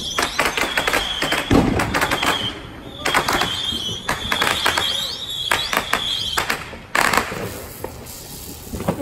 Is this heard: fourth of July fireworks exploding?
yes